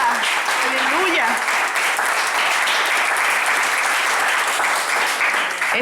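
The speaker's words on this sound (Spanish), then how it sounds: "¿Cuántos le dan un aplauso al Señor?" Church congregation applauding during a sermon, a sustained dense wash of clapping from many hands, with a voice calling out briefly near the start and again at the end.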